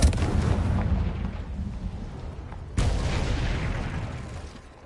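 Two heavy blasts of the Confringo fire spell in Hogwarts Legacy on PS5, each a loud booming explosion with a long rumbling decay, the second striking sharply midway through.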